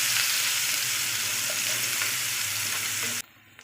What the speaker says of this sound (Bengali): তো দেখো এরকম ভাজা করে নিতে হবে